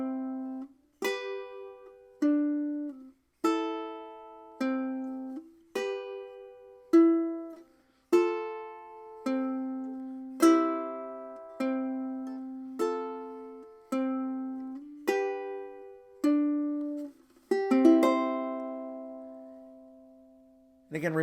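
Ukulele plucking the Pachelbel's Canon chord progression, about a dozen clean picked chords in a slow, steady rhythm, each ringing and decaying before the next, played alone at moderate volume.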